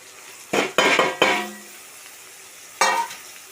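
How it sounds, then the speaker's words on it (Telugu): A spoon stirs chili powder, salt, turmeric, ginger garlic, coriander, curry leaves and tamarind into sambar in a pot: three quick loud scraping strokes in a row, a pause over a soft simmer, then one more stroke. "అన్నీ వేసేసుకొని కలుపుకుందాం."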